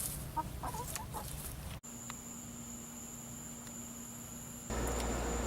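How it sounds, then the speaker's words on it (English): Neighbor's backyard chickens on Sanibel after Hurricane Irma give a few soft, scattered clucks, followed by a steady low hum and a thin high tone. "our neighbor's chickens stayed through Irma and are doing just fine."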